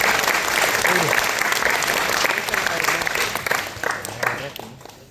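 An audience at an engineering college claps in sustained, loud applause that gradually thins and fades toward the end.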